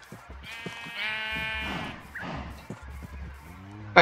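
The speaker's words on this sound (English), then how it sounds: "And good, we have sheep and cows." Blocky video-game sheep in Minecraft bleat in a few loud, wavering calls close by, with a sharp crash-like game sound at the very end.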